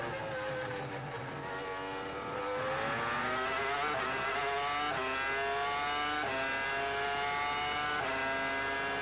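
Formula One cars at the 2002 Canadian Grand Prix scream past at high revs, a layered, rising engine whine from several cars building in pitch and loudness and holding strong throughout.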